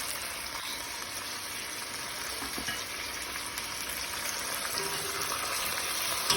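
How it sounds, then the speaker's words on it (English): Rump roast searing in a hot pan, a continuous even sizzle and spatter that holds steady and grows slightly louder toward the end, with no talking. "we just braising this meat before we cook it. We're gonna braise every side of the meat."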